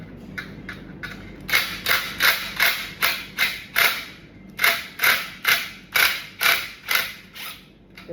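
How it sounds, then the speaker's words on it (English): A screw being worked out of an SJ Lite light fixture gives a run of sharp, evenly spaced ratcheting clicks, close and fairly loud, quickening into a steady rhythm with no talking. "Hopefully this will remove the screw perfectly"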